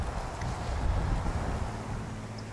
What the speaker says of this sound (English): It's pretty windy up in this perch right now.